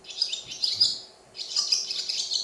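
Recorded swallow song: two bursts of bright, rapid twittering chirps, close and clear, with a short pause between them and no voices.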